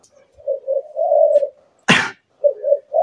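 A spotted dove coos nearby in low, soft rhythmic phrases, repeated in short bursts with a brief broadband knock between them, clear and alone without talk.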